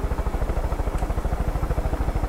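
A small plane's engine in the video game Far Cry 5 drones steadily with a fast, even low-pitched pulsing throughout, close and fairly loud with no talk over it.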